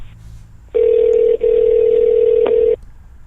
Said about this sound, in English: I'm actually dialing the phone.